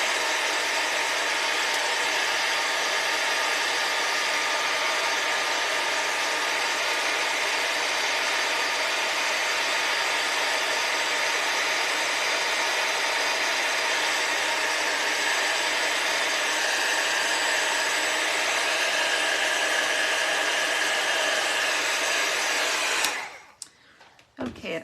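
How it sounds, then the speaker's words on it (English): A heat tool for crafting blows continuously from a cold start while melting white embossing powder on a St. Patrick's Day card, a loud steady whooshing whir that runs unbroken until it clicks off near the end. "it always takes a minute when our heat tools are starting out from being cold"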